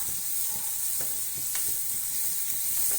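Crab curry ingredients sautéing in a pan, a steady close sizzle and crackle with faint stirring scrapes throughout, no voices.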